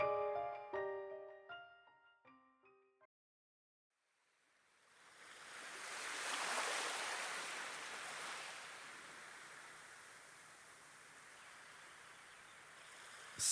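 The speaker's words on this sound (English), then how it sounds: "The sound of the waves is unchanged." Ocean waves wash steadily in a video game, a broad soft surf that swells in after a few plucked melodic notes end, peaking then slowly easing off while staying continuous.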